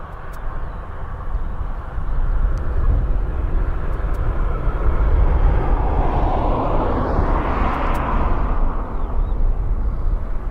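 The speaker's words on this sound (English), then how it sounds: "I will do a replay of that 777 that came into land, okay?" A Boeing 777 lands at an airport runway, its engines making a sustained loud roar that swells toward the middle and then eases slightly, heard from a distance with no talking.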